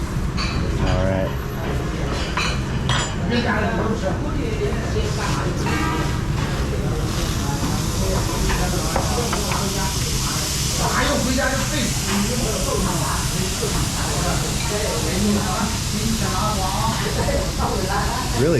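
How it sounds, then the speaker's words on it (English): Steady, loud hissing sizzle close by as beef sears in hot phở broth, continuing under occasional talk. "Really sizzling. It's almost like a plate of fajitas right here."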